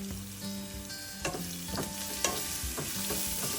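Onions with garlic fry in a pan, giving a steady, close sizzle with occasional louder crackles and spoon scrapes over a constant background hum.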